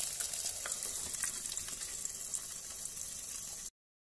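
Duck eggs fry in a covered pan with fish sauce, giving a steady, dense sizzle and crackle that holds evenly throughout before cutting off abruptly, with no talking.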